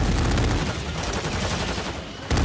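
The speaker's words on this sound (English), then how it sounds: "I just got sniped" Loud, dense gunfire in a Call of Duty match forms a continuous burst of rapid overlapping shots that fills the whole moment. It cuts off abruptly just before a final sharp report.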